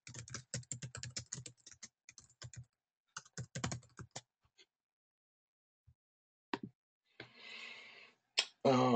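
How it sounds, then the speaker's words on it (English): Rapid bursts of computer keyboard typing, near and clear, come in two runs of quick clicks separated by pauses, followed by a few isolated taps and brief rustling noises. "I'm actually typing this in the chat box."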